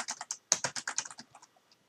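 Rapid bursts of clicky keystrokes on a computer keyboard as router commands are entered, close and fairly quiet, in an uneven rhythm that slows and trails off into a few scattered taps.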